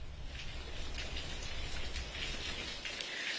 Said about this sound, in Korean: 현재 시간이 지날수록 비바람이 더 거세지고 있습니다